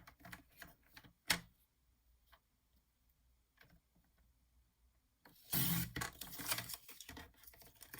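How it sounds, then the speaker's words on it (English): A blade cuts card stock from one corner to the opposite corner for a handmade card. It gives quiet ticking snips and scratches, then a louder, denser scraping rasp near the end, heard close up with no talking. "I'm just gonna cut this guy from one corner to the other."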